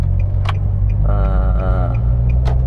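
A 2008 Nissan Grand Livina with an automatic transmission pulls away from inside the cabin, its engine rising in a steady drone over a heavy low road rumble, with a few faint clicks.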